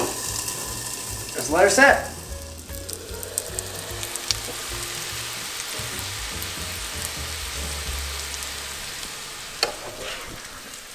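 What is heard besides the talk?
food frying in butter in a covered pan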